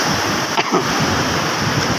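Sea waves pound a beach during Typhoon Inday, a loud, continuous roar of surf mixed with heavy wind buffeting the microphone.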